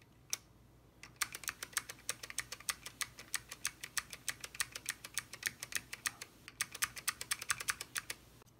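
Typing on Apple IIc keycaps over Alps switches: a fast, close run of crisp clicky keystrokes, briefly pausing before another quick burst, with no voices.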